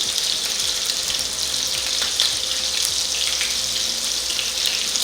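Skin-on food cooks in a hot pan, the oil sizzling steadily and spitting and splattering with sharp little pops over a dense, even hiss, close and without talk.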